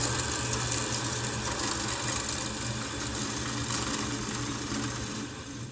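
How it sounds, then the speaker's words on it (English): A power drill bores a hole into a wooden table saw push block, its steady motor whine running continuously and loud for the whole stretch with no talking. "I just need to go ahead and drill my hole"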